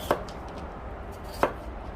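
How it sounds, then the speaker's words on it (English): Two crisp, close knife chops, about a second apart, as potatoes for a Thanksgiving side dish are cut into small pieces on a cutting board. No voices are heard. "we're just gonna cut the potatoes into small pieces so they can cook faster"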